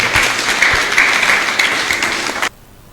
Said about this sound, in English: Can we clap for Jesus Christ?